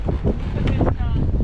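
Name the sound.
strong wind blowing at campground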